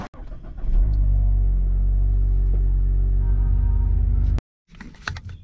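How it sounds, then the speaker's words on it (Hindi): A motorbike engine idles close by with a steady, deep throb, then cuts off abruptly near the end, followed by a few brief, quieter knocks. "तो इसलिए बाइक की गाड़ी पर जाते हैं"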